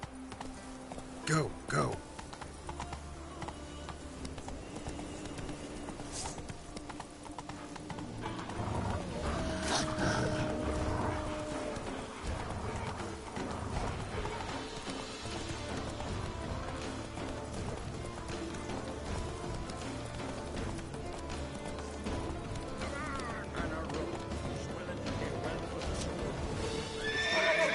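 Roach, the horse in The Witcher 3: Wild Hunt, gallops with clip-clopping hooves and whinnies under continuous game sound. A voice speaks briefly near the start.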